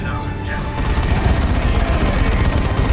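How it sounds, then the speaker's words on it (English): An assault cannon barrage from a Dreadnought in Dawn of War 2, heard as dense rapid gunfire with booming impacts, loud and continuous through the battle. "Dreadnought on the field now for Broodwich with the assault cannon, and that's a good barrage"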